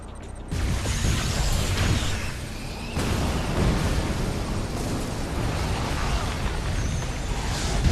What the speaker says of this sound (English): Use the ion cannon to eliminate the base.